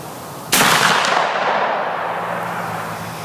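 A muzzleloader rifle with a 1:38 twist barrel fires a Hornady Great Plains bullet at a 100-yard outdoor range: one sharp, loud report followed by a long rolling echo that fades slowly.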